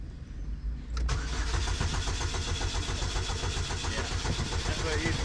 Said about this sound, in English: I'm gonna give her a crank and see what she's doing.